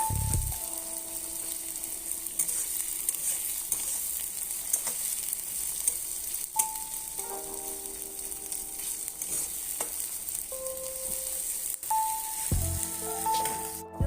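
Chopped onion, ginger and garlic fry in a pan for chicken curry, giving a continuous close sizzle. A spatula scrapes and taps against the pan now and then as the mix is stirred.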